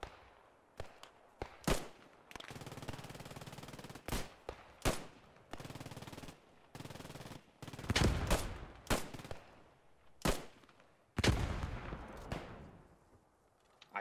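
MG42 machine gun fire in the World War II shooter Post Scriptum, several sharp bursts and single reports at varying distance separated by quiet gaps, with a couple of longer rattling strings.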